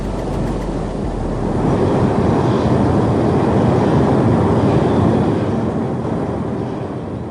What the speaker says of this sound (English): What you're hearing is actual audio of the tornado